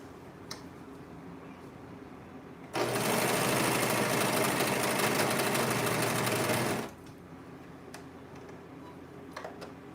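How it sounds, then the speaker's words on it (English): A serger sewing machine overlocks the edges of dress fabric in one steady, loud, continuous run lasting about four seconds, starting and stopping abruptly against a quiet room. "I'm gonna be serging the edges of this."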